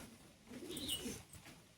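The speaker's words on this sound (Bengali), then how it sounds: "এটা খোলা লেজের পায়রা।" Soft cooing of an open-tailed pigeon, a low murmuring coo rising and fading over a couple of seconds, close by and fairly quiet with no voices.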